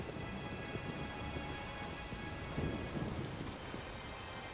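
Thunderstorm with steady rain in The Witcher 3, a dense continuous hiss of rainfall on surfaces with low thunder rumbling throughout and swelling louder near the end, no voices.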